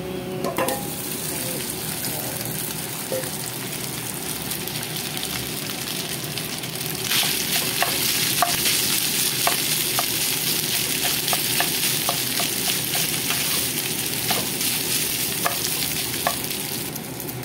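Rice stir-fried in a hot pan with garlic, a steady loud sizzle running throughout with repeated sharp scrapes and clacks of a spatula, growing busier partway through.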